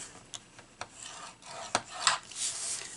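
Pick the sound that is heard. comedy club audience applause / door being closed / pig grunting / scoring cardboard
scoring cardboard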